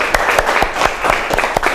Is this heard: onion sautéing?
no